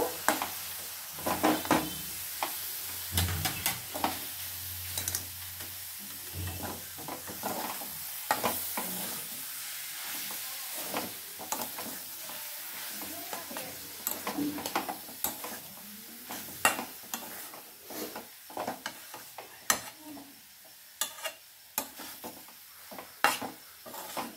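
Chopped coriander is being mixed into a dish in a frying pan, with repeated scraping and clinking of a spatula against the metal pan over a soft sizzle, close and irregular, with no talking.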